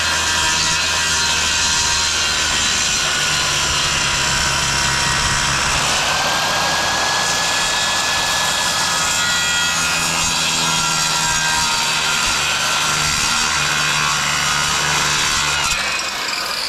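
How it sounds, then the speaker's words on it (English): Circular saw cutting a timber roof rafter: a loud, continuous high-pitched whine and rasp that holds steady for about fifteen seconds, then cuts off abruptly near the end, close up. "Now I like to use a circular saw because that keeps everything so square."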